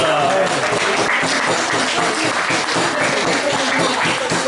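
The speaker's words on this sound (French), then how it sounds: "Vous pouvez applaudir les cuisiniers" Guests at an outdoor festival meal applaud the cooks, with loose, uneven clapping mixed with crowd chatter and voices throughout, moderately loud and close.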